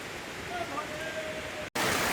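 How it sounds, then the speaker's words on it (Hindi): A mountain waterfall stream rushes steadily after rain along a Himalayan pilgrimage trail, with broad, close water noise continuing without a break and growing slightly louder at the end. "तो पहाड़ों पर बारिश होने के बाद ये झरने के रूप में ये बहते हैं पानी"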